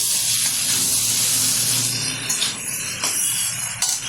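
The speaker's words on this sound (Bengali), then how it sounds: "টমেটোটা একটু মিশিয়ে নিচ্ছি।" Chopped tomato stirred into a hot kadai on high heat while making mixed ghugni, giving a steady close hiss and sizzle with scraping stirs that ease off partway through.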